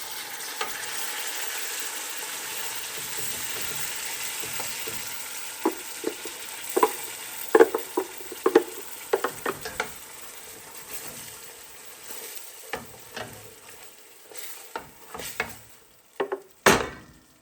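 Food for turkey tamales sizzles in hot oil, a steady broad frying hiss with utensil clinks and scrapes growing more frequent toward the end.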